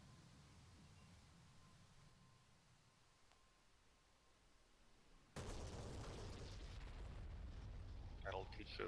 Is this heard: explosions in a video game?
yes